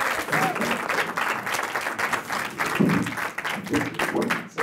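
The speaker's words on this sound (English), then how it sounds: "How about one more big round of applause for Patrick as well?" A live audience at an arts event on creativity gives a round of applause after a poetry reading, dense steady clapping filling the room for several seconds, with a voice speaking over it.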